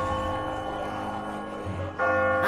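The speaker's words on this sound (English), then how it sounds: "That bloody bell." Large bell tolling in The Walking Dead video game, deep sustained resonant strokes with a long ringing decay, a fresh strike landing near the end over the lingering hum.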